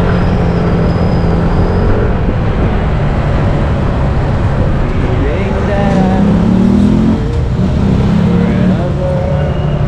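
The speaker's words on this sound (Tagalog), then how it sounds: "Guys, marami na rin talagang sasakyan dito." Congested road with heavy traffic: a loud, continuous rumble of engines and tyres, with vehicles passing close by and a few higher engine tones rising out of the roar.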